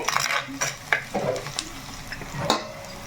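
Onions frying well in a pan, a close steady sizzle with repeated scraping and tapping of a spatula stirring them, no voices.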